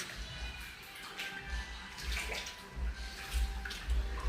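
High-tide flood water from a nearby river rushes and splashes in a steady churning flow, fairly quiet, with occasional louder surges and low rumbles.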